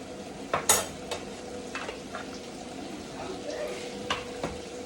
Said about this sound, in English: add just a little bit of butter to the pan